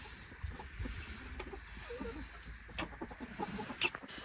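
Chickens cluck softly and intermittently nearby, with low murmuring calls over a quiet background and a few sharper clicks and knocks.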